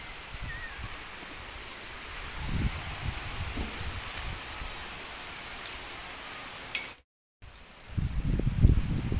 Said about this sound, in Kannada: ಗಾಳಿಯ ಸ್ಪೀಡ್ ನೋಡಿ ಹೇಗೆ ಹೇಳಿ